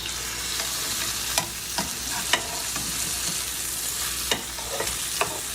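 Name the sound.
steaks searing in a pan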